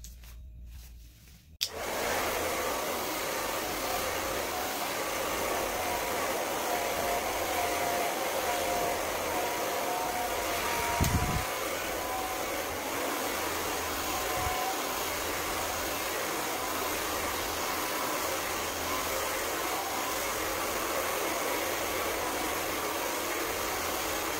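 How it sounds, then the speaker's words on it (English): A hair dryer switches on and blows with a steady, loud whooshing hum, briefly shifting tone midway before continuing. "On this blow dryer, I can put this on 0, or I can push this cold button."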